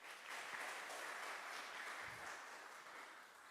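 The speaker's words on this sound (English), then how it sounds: "please a warm applause for Mahagotra Ganesha" Warm audience applause at a hydrogen metallurgy symposium after a performance, a steady, even wash of many hands clapping, heard at a distance and fairly quiet, without voices.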